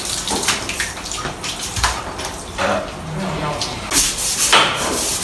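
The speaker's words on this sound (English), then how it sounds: "And I'm going to use a scrub brush." Scrubbing a bathroom floor with a scrub brush and soap, irregular wet swishing and scraping strokes at close range, with splashy bursts and occasional speech.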